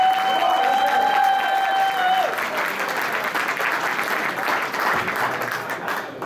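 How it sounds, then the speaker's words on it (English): Crowd applause at a political victory speech for a state senator, loud and sustained clapping filling the room, with a high whistled tone in the first two seconds before the clapping continues alone. "So let's hear it for our great state senator,"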